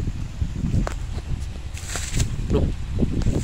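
Strong storm wind gusting through trees that are being uprooted, a steady low roar with rustling and buffeting against the microphone, loud and continuous throughout.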